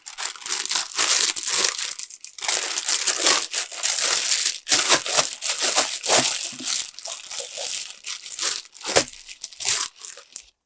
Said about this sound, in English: I have a clear seal bag, and I put my pork belly inside of it